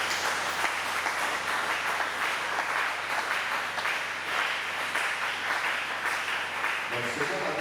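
A church congregation applauds and cheers in acclaim during an evening service, a dense, continuous wash of clapping and voices that fills the room for several seconds before thinning near the end.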